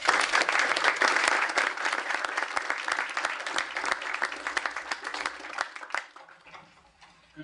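Audience applause welcoming Dow Coating Materials vice president Guillermo Novo, a dense, steady clapping from a crowd that holds for several seconds, then thins and fades out.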